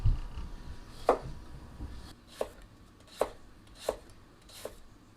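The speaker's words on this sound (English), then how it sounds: "Let's go ahead and do some thin dicing with it." Knife thinly dicing carrots on a cutting board with a flat-profile blade: about six sharp, evenly spaced chops roughly one per second, close and clear against a quiet room.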